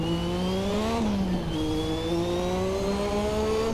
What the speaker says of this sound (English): you get a nice little bark out of it.